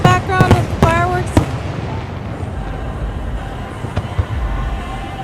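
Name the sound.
4th of July fireworks show exploding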